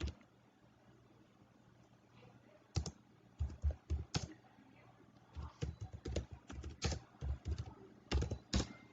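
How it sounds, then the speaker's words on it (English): Someone types a command on a computer keyboard, giving quiet, close clatter in irregular bursts of quick keystrokes broken by short pauses. "To install Apache, I need to write the command"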